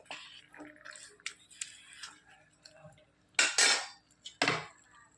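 A lid goes onto a pot of jackfruit aviyal finished with raw coconut oil, giving two sharp metallic clatters near the end. Softer utensil clinks and a faint murmuring voice come before them.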